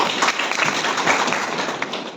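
An audience at a Nagpur event claps for a speaker's brother, a short burst of moderately loud, dense applause that holds steady briefly and fades slightly toward the end.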